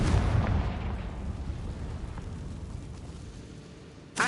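Confringo spell blast in a Harry Potter game on PS4, a booming burst at the start that decays into a rumbling tail, ending with a second sharp hit.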